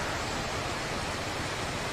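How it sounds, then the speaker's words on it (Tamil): Water overflowing from the new lake at Kannankurichi, Salem, and flowing downhill: a continuous, even rush of running water, close and steady, with no voices. "இந்த ஏரியிலேருந்து அப்படியே ஓவர்ஃப்ளோ ஆகி கீழே இறங்குது."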